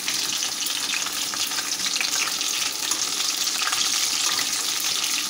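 Chicken leg pieces fry in a small amount of oil, making a dense, crackling sizzle that holds fairly even and close for several seconds without speech.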